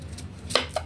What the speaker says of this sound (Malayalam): സവാളയും കൂടെ അരിയാം